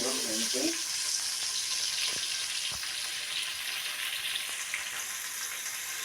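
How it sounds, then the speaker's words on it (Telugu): Brinjal pieces fry in a pan for sambar, giving a continuous moderate sizzle throughout, with a few faint clatters and a brief murmur of voice at the start. "వంకాయ ముక్కలు కూడా వేస్తున్నా"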